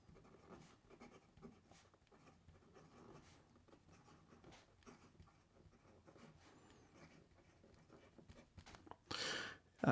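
A Laban Formosa fountain pen with a stainless steel nib writes across paper, giving soft, close scratching strokes in a steady irregular rhythm, faint and alone, ending with a louder brief rustle.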